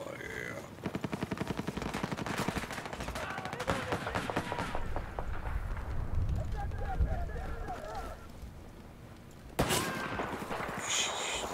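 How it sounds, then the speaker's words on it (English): Gunfire in the shooter video game Battlefield, rapid automatic bursts rattling through much of the stretch with a sharp loud shot near the end, mixed with game noise and a voice talking. "That gunshot scared the fuck out of me."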